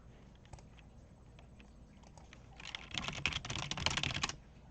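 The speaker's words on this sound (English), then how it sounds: "Fastest typing alphabet with spaces." Fast typing of the alphabet with spaces on a computer keyboard: sparse scattered keystrokes at first, then a dense, rapid burst of clattering keys building louder before stopping abruptly.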